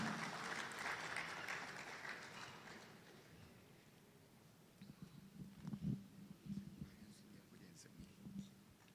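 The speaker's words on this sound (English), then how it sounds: "A round of applause for Father now." Applause for a priest at a university stakeholder consultation meeting, a broad wash of clapping through the first three seconds that fades, followed by scattered near sounds and murmuring voices.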